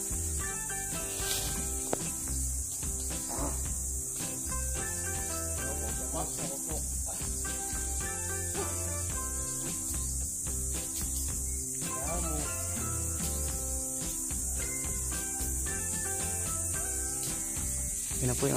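Wild honey bees (pukyutan) swarm around a hive during a primitive honey hunt, giving a dense, steady buzzing drone with a constant high insect hiss throughout, close and continuous.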